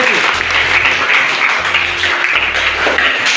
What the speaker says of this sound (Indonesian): Oke, tepuk tangan dulu untuk Keti.